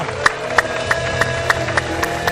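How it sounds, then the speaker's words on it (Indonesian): Audience at an Indonesian talk show clapping in rhythm: evenly spaced, sharp unison claps roughly three per second, moderately close, over a low background hum with faint tonal sound beneath. "Kasih tepuk tangan dong, kasih suara."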